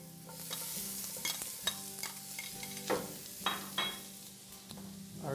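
Garlic and ginger mixture and peppers stir-fry in a preheated, lightly oiled pan: a continuous near sizzle with repeated scraping stirs and occasional utensil clinks against the pan, with no talking.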